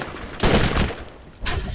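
Gunfire from the video game Borderlands: a loud burst of shots rips out mid-clip, and a second burst begins near the end, with a low background hum between them.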